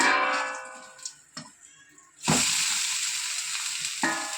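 A flipped handvo, a savory lentil and rice batter cake, sizzles steadily in a hot pan as hissing frying noise swells after a couple of sharp clatters.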